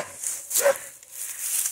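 A dog barks at a stranger on a fruit-growing property, a couple of sharp barks mixed with faint high noises, brief and moderately close, with no talk.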